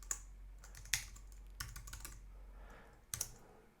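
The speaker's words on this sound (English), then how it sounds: "So @B Waldman, and then here you can type in your message." Computer keyboard typing a chat message, a handful of soft scattered keystrokes with irregular gaps, quiet and close over a low steady hum.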